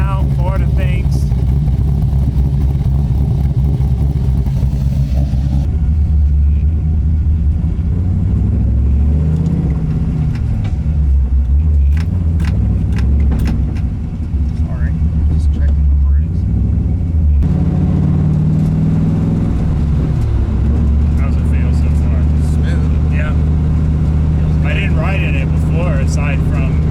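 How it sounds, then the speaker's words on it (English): An LS-swapped Nissan 240 engine idles with a steady low rumble and a deep throb that holds for a long stretch with no one speaking. "A little sound clip of our idling."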